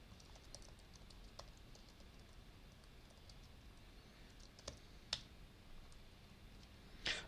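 A computer mouse clicks softly in a quiet room: a few faint scattered ticks, then sharper clicks near the end, including a quick double click, with no talking.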